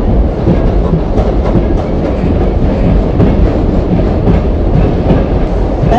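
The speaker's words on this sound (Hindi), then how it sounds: "Passengers are requested to stay behind the yellow line on platform as Gatiman Express will pass through the station." Gatiman Express rushing through a station in Indian Rail Simulator, a loud continuous rumble of wheels and wagons with clickety-clack rhythm, close and sustained throughout.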